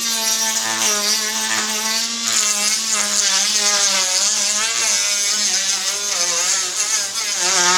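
A small Harbor Freight rotary tool fitted with a sanding belt whines steadily at high speed, its buzzing motor pitch wavering slightly as it grinds, close and loud with no talking.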